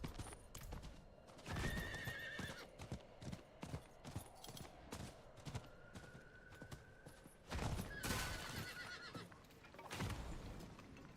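Horse mount in the video game Diablo IV: clip-clop hoof steps repeat throughout with several loud whinnies and neighs, close and prominent, with no talk.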